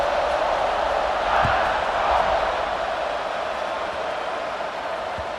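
Steady, loud roar of a football stadium crowd as the home defense takes the field, a broad sustained wash of cheering with no distinct breaks.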